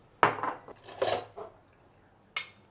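Raw chicken being mixed with light soy sauce and sesame oil in a bowl, giving a few quiet scraping, clinking strokes of a utensil against the dish, spaced irregularly with pauses between.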